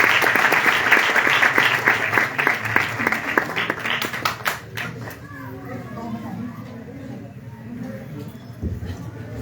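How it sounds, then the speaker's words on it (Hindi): Church congregation at a youth worship meeting clapping loudly, a dense, energetic burst of applause that gradually fades into murmuring room noise and scattered voices. "आप सबकी जोरदार तालियों से शुक्रिया करें आपके कलाम को"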